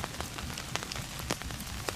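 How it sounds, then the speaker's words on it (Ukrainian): Rain falls steadily near the Lokhansky rapids, with dense close-up patter of drops on surfaces and a few sharper individual drips, continuous and fairly quiet, with no voices. "Погода, бачите, дощ сьогодні цілий день"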